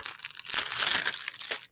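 A plastic bag is crinkled and handled up close while bread pieces are being sealed inside, giving a steady, dense rustle for under two seconds.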